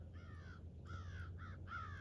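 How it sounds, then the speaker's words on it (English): Crows give four harsh caws in an uneven sequence from a moderate distance over a low steady hum, with no voices. "And I know you can hear it because them birds"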